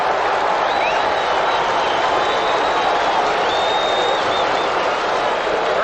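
Stadium football crowd gives a sustained round of applause for injured New York Jets player Jim Early as he leaves the field, a broad, even roar of clapping with faint whistles throughout.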